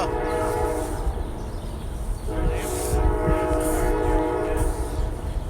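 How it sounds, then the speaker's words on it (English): An Amtrak passenger train passes in the background in Chesterton, Indiana, a steady rumbling rail roar with a few brief high horn-like tones, while a person talks over it. "that's Amtrak in the background that you're hearing"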